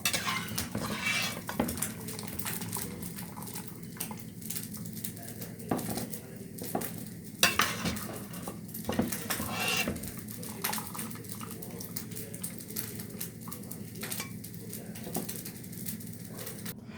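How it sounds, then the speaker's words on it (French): Beef bourguignon is spooned from a pot into a baking dish, with metal utensils clinking and scraping against cookware and soft wet plops of the stew, close and moderately quiet, with scattered sharper clanks throughout. "je prends mon bourguignon que je vais mettre dans mon plat"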